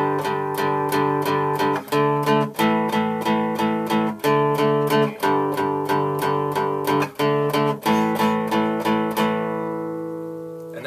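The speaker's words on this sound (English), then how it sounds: "the guitar players use chords called power chords" Electric guitar strums repeated power chord shapes at full tempo in the instrumental break of a song, a steady rhythmic pattern with brief chord changes, ringing out alone and fading at the end.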